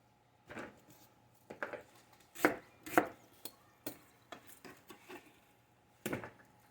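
Knife chopping onions lengthwise into long chunks on a cutting board, about a dozen sharp, irregular thuds close by in a quiet room.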